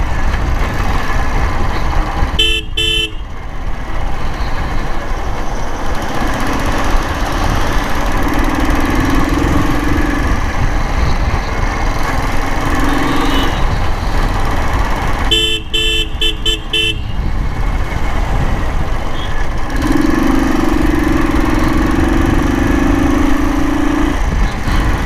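A motorcycle engine runs steadily and loudly throughout a ride through the city, with broadband road and wind noise and short bursts of horn-like tones near three and sixteen seconds.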